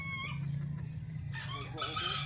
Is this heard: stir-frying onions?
no